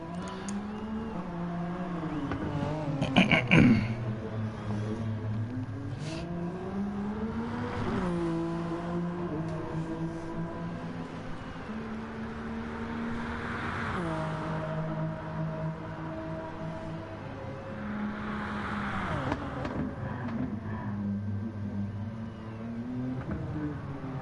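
A race car in an online FIA Nations Cup racing game replay drives steadily, its engine note rising and falling through gear changes with a sustained, fairly loud drone over about twenty seconds and a brief sharper burst near the start.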